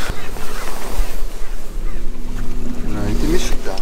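A boat with a 100 HP outboard motor runs on open water, its engine drone steady and loud under heavy wind buffeting and splashing waves, with voices faintly present.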